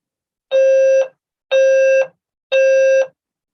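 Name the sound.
university building fire alarm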